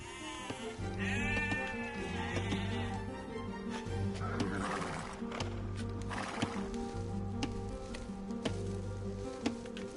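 Sheep bleat in the Age of Empires 2 strategy game, several short bleats over a steady game music and ambient backdrop, with faint interface clicks.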